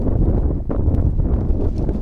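Loud, gusty wind buffets the microphone with a constant low roar and rustling, close and continuous throughout.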